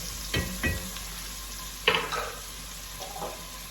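Ingredients for coq au vin with garlic stirred in a frying pan, a soft background sizzle broken by a few scraping stirs of a utensil against the pan.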